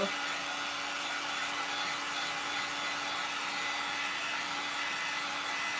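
Hair dryer blowing steadily for several seconds to dry a painted craft surface, a continuous close whooshing hum with a faint tonal whine and no pauses or talking.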